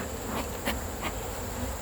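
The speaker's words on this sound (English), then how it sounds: "Look at these bees." Honey bees swarm around an opened hive during a summer inspection, making a dense, continuous buzzing hum with a few louder passes as individual bees fly close.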